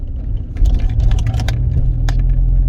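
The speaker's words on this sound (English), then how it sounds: "It's not unusual really to have drive shaft noises on an old car like this." Metallic clunks and rattles from the drive shaft underneath a moving old Rover car, irregular knocks over a low, steady engine and road rumble.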